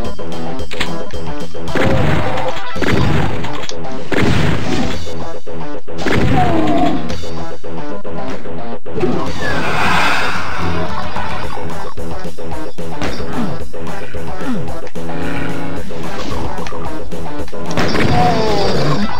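Dense, continuous crashing and booming explosions in the video game Doom 2, loud and chaotic, with repeated heavy bursts layered over a busy mix throughout.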